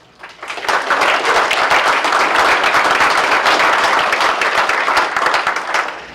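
A press conference audience breaks into applause, building quickly from quiet into a full, dense burst of many hands that holds steady for several seconds before tapering at the end.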